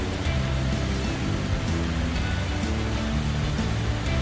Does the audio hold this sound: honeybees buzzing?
no